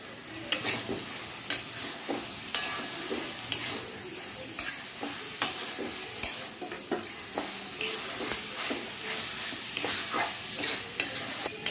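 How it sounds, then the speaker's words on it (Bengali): Grilled chicken pieces stirred into masala that sizzles in oil, a steady frying hiss broken by regular scraping strokes of a spoon against the pan, close and clear. "এইবার আমি এর মধ্যে এই গ্রিল চিকেনগুলোকে দিয়ে দেবো।"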